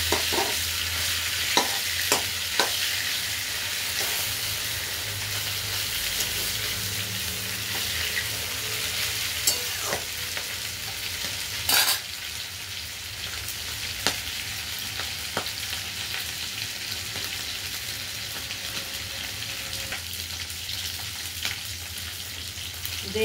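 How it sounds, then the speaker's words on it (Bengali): Sol fish head frying in a pan, a steady hiss of sizzling oil that runs throughout at moderate level, punctuated by occasional scrapes and taps of stirring, with no talk. "মাছ কিন্তু ভাজা হচ্ছে"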